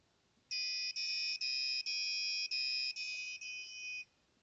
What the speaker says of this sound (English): Now you can see when someone is detected, our bell is ringing.